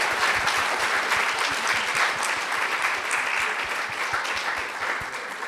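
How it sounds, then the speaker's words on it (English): Audience applause at a fall festival and poetry slam event, a steady wash of clapping that stays loud throughout and tapers slightly near the end. "I think that all the moms in this crowd deserve a round of applause."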